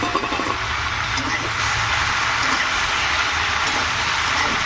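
Prawns dropped into a hot pan sizzle loudly, a dense, steady hiss that carries on without a break, with a faint low rumble underneath and no speech.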